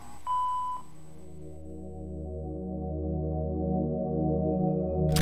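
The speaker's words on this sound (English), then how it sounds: "please leave a message after the tone" An answering machine tone sounds once as a short, clear electronic beep, followed by a low steady hum and faint background noise that slowly grows louder.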